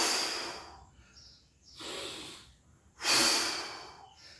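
Rhythmic exercise breathing during an abdominal workout: three forceful breaths, inhales and exhales, in an even back-and-forth pattern, close to the microphone and breathy, with no talking.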